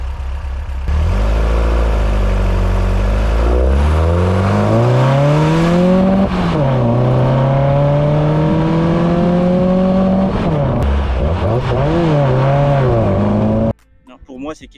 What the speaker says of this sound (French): c'est quelque chose d'incroyable d'avoir ce 4 cylindres à plat air-cooled qui respire